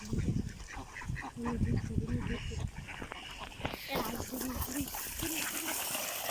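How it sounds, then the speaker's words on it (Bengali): Many ducks on a duck farm quack in a noisy, overlapping chorus close by, with splashing water and voices mixed in. "দেখেন কত হাঁস পালাচ্ছে আমাদের দিকে"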